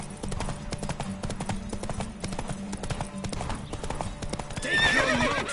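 A horse gallops in the video game Witcher 3: Hearts of Stone, its hooves clip-clopping in a fast, steady rhythm up close, with a neigh breaking out near the end.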